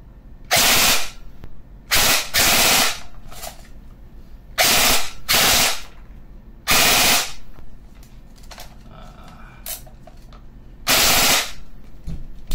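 Airsoft Daniel Defense MK18 rifle firing full auto: six loud, sharp bursts of rapid shots separated by short pauses, close up and alone.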